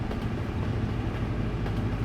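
A train rolls past in the Euro Truck Simulator 2 driving game, a steady low rumble and rattle holding at an even level throughout, with no talk over it.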